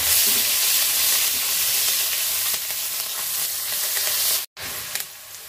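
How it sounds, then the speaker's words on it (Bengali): Onion frying in a pan of oil left over from frying tilapia fish, a steady close sizzle with faint stirring, broken by one brief silent gap near the end. "পেঁয়াজ লাল লাল ভাজা হয়ে গেছে।"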